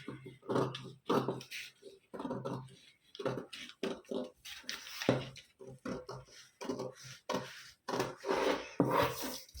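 Scissors cut through a paper pattern for a 34-inch katori blouse, giving a close series of rhythmic crisp snips and rustling strokes, each cut quick and separated by short pauses.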